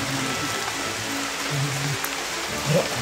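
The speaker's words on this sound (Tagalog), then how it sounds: "Sobrang lakas na talaga ng ulan." Heavy rain pours down in a steady, dense hiss that fills the whole stretch, loud and close, with a faint low hum underneath and no speech.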